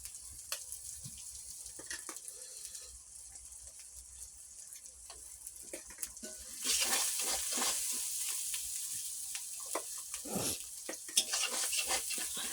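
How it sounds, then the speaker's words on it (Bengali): Duck meat sautéed with turmeric, crushed garlic and ginger paste in a home kitchen pan, stirred with a steady sizzle that swells louder midway, scraping stirs punctuating the frying. "এটা কষানো হোক ভালো করে"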